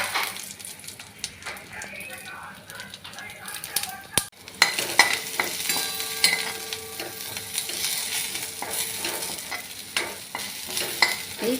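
Raisins, walnuts and cashews roasting in a pan for panchamrut, frequent scraping stirs and clinks of a spoon over a soft sizzle, with a voice speaking intermittently.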